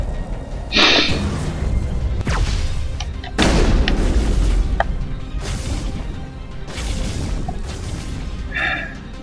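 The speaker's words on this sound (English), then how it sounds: "this goddamned armature, which likes to blast me with fucking missiles all the goddamn time" Missiles from an Armature walker explode in the Mass Effect video game, heavy booms recurring several times amid loud continuous combat noise.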